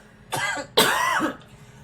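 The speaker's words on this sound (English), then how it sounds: "That's why I was coughing." Two harsh, close coughs in quick succession, the second longer and louder, from a person who is overheated and smelling gasoline fumes.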